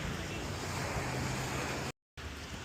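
Waves and wind roll in at Brighton Beach, a loud, dense wash of surf with wind buffeting the microphone, continuous apart from a brief dropout near the end.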